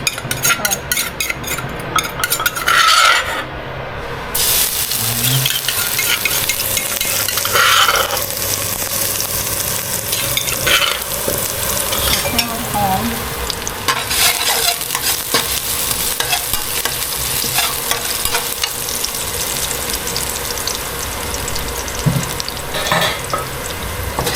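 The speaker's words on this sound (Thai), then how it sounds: "ใส่น้ำมันลงไปหน่อยนึงครับ แล้วก็ใส่กระเทียมที่เรา ตำไว้ เพื่อความหอม" Pounded garlic sizzles steadily in a little hot oil for a Thai rat na noodle gravy, with spatula stirring and occasional clinks of the pan throughout.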